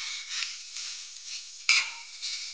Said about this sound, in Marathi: कांदा परतू